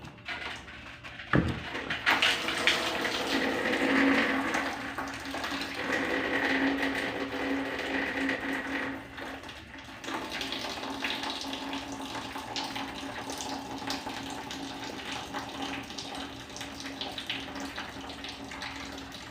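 Water pouring steadily from the drain pan of a TCL inverter split-type aircon with a clogged drain hose, a continuous close splashing trickle that shifts slightly midway, with no talking.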